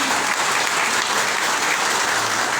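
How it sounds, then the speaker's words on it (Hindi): Loud, sustained applause from a training-seminar audience, dense steady clapping filling the room from start to finish with no voices rising above it. "तो आगे मुझे ताली बजाते हैं, जोरदार ताली"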